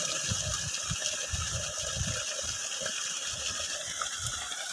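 Water gushes steadily from the outlet of a 5 HP solar pump set in a well, a constant rushing splash with a faint rhythmic mechanical churning underneath.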